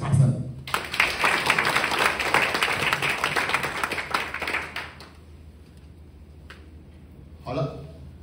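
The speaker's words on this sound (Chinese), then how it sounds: "给他一个掌声" An audience at a company leadership training seminar bursts into applause, a dense burst of clapping for about four seconds that fades out, followed by near silence and then a voice speaking.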